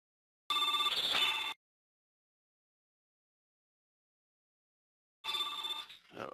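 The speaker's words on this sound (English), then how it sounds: "Oh, so sorry about the phone" A phone rings in two loud bursts of electronic trilling, separated by several seconds of silence, with no one speaking.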